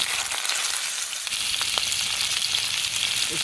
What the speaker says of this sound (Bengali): আমি আলুটাকে হলুদ লবণ দিয়ে তেলে ভেজে নেব